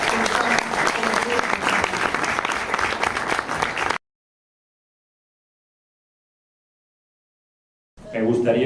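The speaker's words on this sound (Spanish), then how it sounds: "un aplauso para todos ustedes" An audience at an international seminar in Mexico claps in a dense burst of applause, followed by a silent gap, then a second round of clapping starts.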